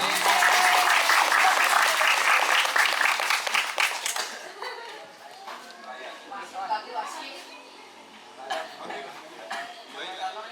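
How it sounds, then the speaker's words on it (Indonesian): Crowd at an Islamic boarding school independence celebration applauding a second-place winner: loud, dense clapping for about four seconds, then fading into scattered claps, chatter and some laughter as people talk in the background. "Tepuk tangan."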